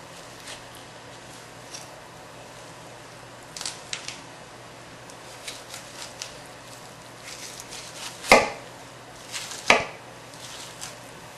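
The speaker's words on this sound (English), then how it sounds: "And that's what I'm doing right now, is running my knife along the rib cage." A knife working along the rib cage of a partly frozen whole turkey being de-boned, with scattered soft cuts and scrapes and two sharper cracking snaps near the end, close and quiet, no talking.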